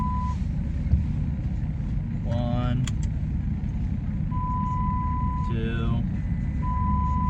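A truck's warning chime sounds as a steady, fairly loud single-pitch ding that stops and restarts in separate stretches, over a constant low engine idle, with someone talking and counting in between.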